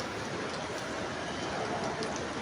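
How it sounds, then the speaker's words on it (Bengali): Heavy pouring monsoon rain falls as a dense, steady hiss at close range, unbroken and without speech for the whole stretch. "মুষলধারে বৃষ্টি হচ্ছে"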